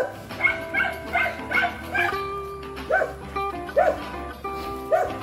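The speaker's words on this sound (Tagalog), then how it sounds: "Daming aso." Several dogs bark and yip in repeated bursts, some near and some farther off, outdoors in a muddy rural neighbourhood, with a faint whimper among them and no talk over the barking.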